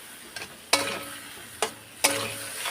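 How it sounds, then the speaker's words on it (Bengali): A spatula stirs fish curry with potatoes and pointed gourd in a pan, producing three scraping bursts, two of them longer, over a faint steady simmer with no voices. "এখন আমি দিয়ে নাড়াচাড়া দেবো"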